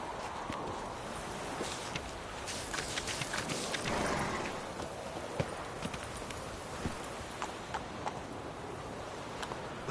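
Hooves of Roach, the horse in a video game, clip-clop at a walking pace, a run of light, moderately close hoof strikes over a faint ambient bed.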